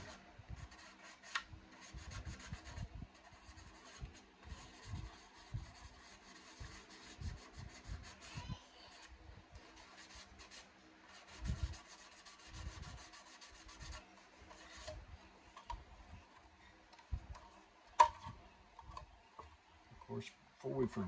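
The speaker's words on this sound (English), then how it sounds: "the 600 is doing a great job of going through this paint" Fine 600-grit sandpaper rubs paint off a model 1955 Ford panel truck in short, quiet, repeated scratchy strokes, close and faint.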